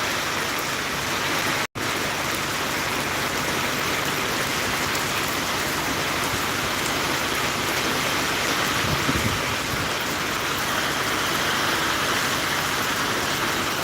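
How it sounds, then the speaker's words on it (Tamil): Heavy rain pours in a steady, dense roar that goes on without pause for the whole stretch, with a brief sharp dropout near the start and no voices. "நல்ல மழை பெய்யுது"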